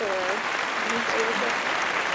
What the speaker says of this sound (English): Everyone give them a hand clap